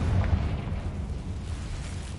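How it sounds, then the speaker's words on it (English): Confringo explosive spell cast in Hogwarts Legacy, a low rumbling blast that swells at once and slowly fades over two seconds, heard alone. "Confringo."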